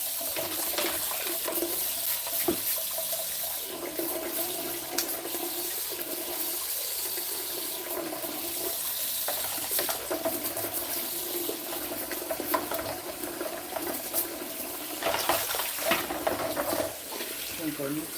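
Tap water runs into a kitchen sink while juicer parts are washed, a continuous rushing splash with clinks and handling sounds mixed in, loud and close throughout.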